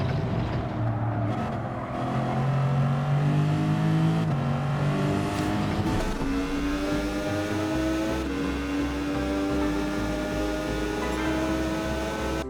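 Gr.3 race car engine at Suzuka in Gran Turismo 7, loud and steady, rising and falling in pitch as the throttle is lifted, the car coasts and then pulls back to full power, with no voices.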